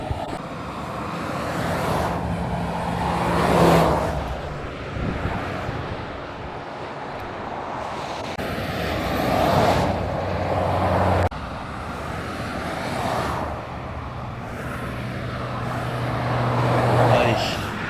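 An Audi RS6 drives past on a road, its engine roar swelling and fading as it goes by, close and loud. Other cars pass in repeated surges and wind buffets the recording.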